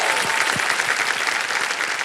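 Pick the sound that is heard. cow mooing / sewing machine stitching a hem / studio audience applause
studio audience applause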